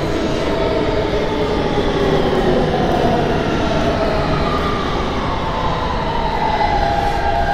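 Kawasaki R160B subway train on the G line in Roblox, running with a steady loud rumble and rising motor whine throughout, continuous and close with no talk.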